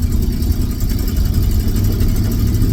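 Engine of a 1984 Ford F250 truck running loud and close, a steady low rumble with a dense throbbing idle texture and no talk over it.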